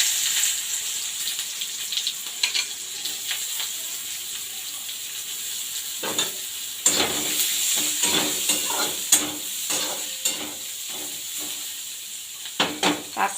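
Chopped onion dropped into hot leftover fish-frying oil topped up with a little fresh oil, a steady close sizzle with stirring clatter and scraping bursts toward the end, no talking over it.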